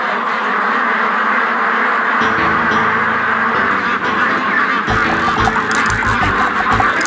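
Farm ducks raised on corn and wheat quack steadily throughout, a dense, loud flock chorus with overlapping calls and no talking.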